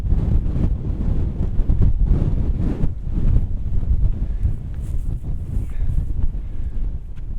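Strong wind on an exposed mountain in New Hampshire's White Mountains buffets the microphone with loud, low, gusting roars that surge and ease over several seconds, with no one speaking.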